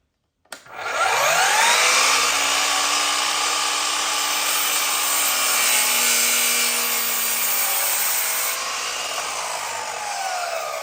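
A power saw cuts through a piece of scrap wood in a workshop, starting abruptly with a loud, sustained whining rasp that holds for about ten seconds and eases slightly near the end.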